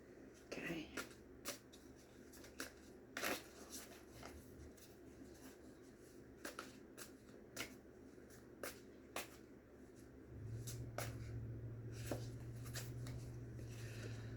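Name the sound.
shuffling cat tarot cards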